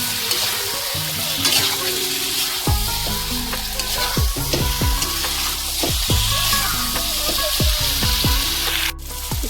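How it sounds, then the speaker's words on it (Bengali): Chicken sizzling in a pan for a Bengali-style dish, stirred with repeated scraping strokes over a constant loud frying hiss, close up and without talk. "ভালো করে নেড়ে তারপরে আমি ঢেকে দেব।"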